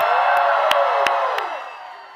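Rally crowd at a Las Vegas political event cheering and whooping for a band, a loud sustained roar with scattered shouts that fades slightly toward the end.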